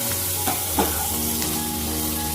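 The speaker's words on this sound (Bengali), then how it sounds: "এটা একটু ভেজে নিচ্ছি" Chili, coriander and cumin powder fry in a pan, a loud steady sizzle with a couple of brief spatula scrapes and a constant low hum underneath, with no voices.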